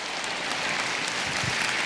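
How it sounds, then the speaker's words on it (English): A business forum audience applauds a pair of people asked to stand, a dense, even wash of clapping throughout a short moment, no voices. "Let's clap it up for these guys."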